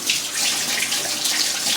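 Tap water runs steadily into a kitchen sink to rinse peas for chip-shop style mushy peas, a continuous close hiss and splash with no talking.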